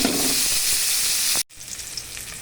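Garlic and onion sauté in leftover milkfish frying oil, a loud, dense sizzle that cuts off abruptly partway through, followed by quieter crackling.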